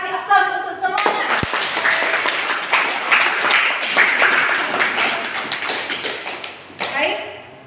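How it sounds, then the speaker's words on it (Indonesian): A classroom of students applauds the presenting student groups with a dense, sustained burst of clapping lasting several seconds, loud and close, after a brief spoken voice at the start and fading at the end. "Kasih aplaus untuk semuanya."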